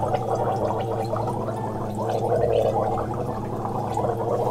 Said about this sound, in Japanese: ここからうがいをしていきます。